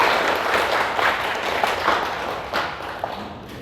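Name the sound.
church congregation applauding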